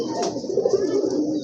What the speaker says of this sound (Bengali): অনেক ধরনের ফ্যান্সি কবুতর এবং দেশি কবুতরের কালেকশন